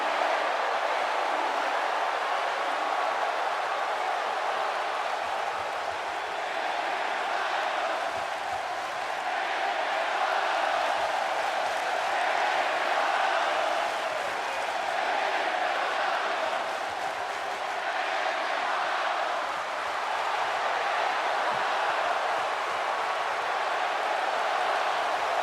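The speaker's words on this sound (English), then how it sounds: "The noise in here is absolutely extraordinary. The crowd is split straight down the middle" Loud, steady arena crowd roar from the video game WWE 2K19 during a WrestleMania match between AJ Styles and Shawn Michaels, a dense unbroken wall of noise that swells slightly in places and runs throughout with no talk.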